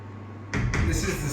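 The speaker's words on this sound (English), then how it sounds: "Do you want to shut the door?" A door shuts at a restored Catalan farmhouse, at the entrance to its refrigerated wine cellar. The close, fairly loud thud has a quick second knock just after.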